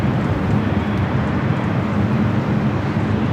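A Singapore Airlines jet takes off on the north side at LAX, a loud, constant broadband engine roar filling the whole short stretch without any voices.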